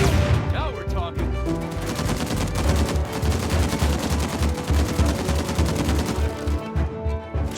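Sustained automatic gunfire from a grabbed weapon in the Uncharted 4 video game, loud rapid bursts rattling continuously with only brief pauses, no talk over it.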